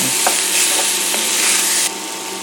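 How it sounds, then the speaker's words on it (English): Onions and celery sizzle steadily in a pan for beef stew, broad frying hiss with a few soft stirring knocks, close and constant before the sizzle drops slightly near the end. "as the onions and celery release their moisture, they're going to pull up a little bit extra of that browning."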